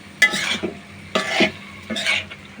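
A spoon stirs mixed vegetables frying in ghee in a pan for a vegetarian bhaji, making three evenly spaced scraping strokes over a light sizzle, close and clear.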